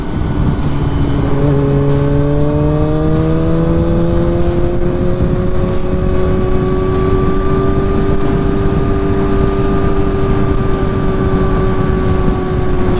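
A Yamaha R6 motorcycle engine held at raised throttle while riding through curves, with a steady loud drone whose pitch rises and then holds under strong wind noise, recorded close to the bike.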